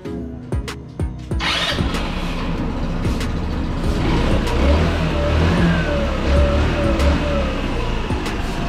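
An Easy Ride 150N motorcycle engine with a hard-starting problem cranks with a few sharp bursts, then catches and settles into a loud, steady running rumble with slight revving swells.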